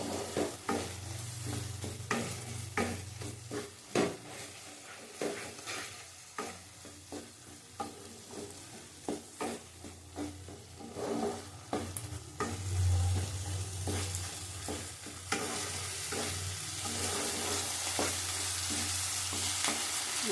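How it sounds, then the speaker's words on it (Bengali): Spice paste mixed with cashew and raisin paste is sautéed in a pan, giving a continuous sizzle broken by frequent rhythmic scraping strokes from stirring, loud and close throughout. "ভালো করে কষাতে হবে, নাহলে মশলার গন্ধ ছাড়বে।"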